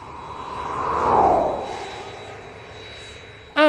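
Airbus airplane engine roaring as it passes overhead, a broad rumble swelling to a peak and then fading away, with a steady whine underneath.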